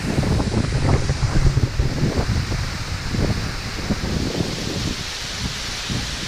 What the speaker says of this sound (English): Hope you can hear me over the wind and the water.